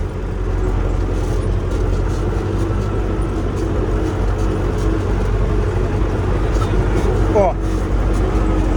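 An MTZ-82 tractor with a seeder attached pulls away, its diesel engine giving a loud, steady low rumble throughout, with a brief rising tone near the end.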